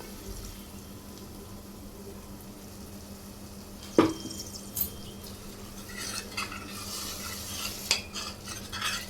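A soft steady sizzle of masala for mutton curry frying in oil runs underneath as a spoon scrapes and clinks against a pan a few times, with light stirring noises later on.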